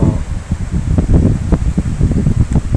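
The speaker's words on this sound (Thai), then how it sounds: "บรรยากาศก็ลมแรงมาก" Strong wind blows steadily outdoors in open country, roaring and buffeting the microphone in continuous gusts with no voices.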